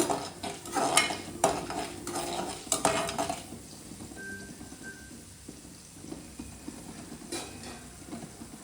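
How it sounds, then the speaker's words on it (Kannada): Urad dal frying in a pan while making lemon rice, with a steady low sizzle under scraping and clinks of a spoon stirring against the pan, busier in the first few seconds and then quieter. "ಚೂರು ಉದ್ದಿನಬೇಳೆ, ನೀಟಾಗಿ ಫ್ರೈ ಮಾಡ್ಕೊಳ್ಳೋಣ."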